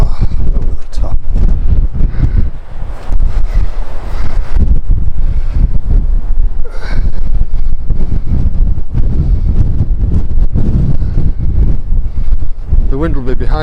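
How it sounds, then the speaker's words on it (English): Strong wind roars steadily across the microphone on a coastal clifftop walk at Filey, with gusty buffeting that stays loud throughout and brief hints of a voice underneath. "The wind will be behind me soon"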